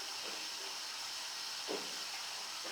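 Chicken simmering with three onions in a pot on a gas stove gives a steady, soft hiss and sizzle throughout, with one brief louder bubbling burst near the end.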